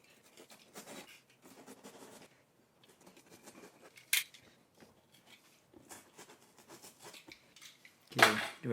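A knife slicing through foam padding in a Røde Wireless Go audio location kit case, giving intermittent soft scraping and crackling strokes up close, with a couple of sharp louder clicks and no voices.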